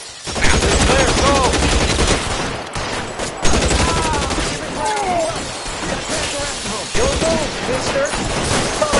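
A shootout in the video game L.A. Noire produces a continuous, loud wash of gunfire and crashes that barely lets up, while voices shout over the shooting.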